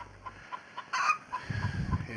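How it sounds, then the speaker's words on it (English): Chickens cluck in soft, repeated calls over a steady background hum, with a brief louder squawk partway through and some low rustling near the end. "There's all the chickens."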